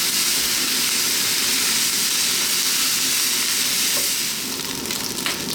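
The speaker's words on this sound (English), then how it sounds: "That's the rice frying," Mushroom fried rice sizzles steadily in a hot pan, a loud continuous frying hiss that stays constant throughout, easing off slightly near the end.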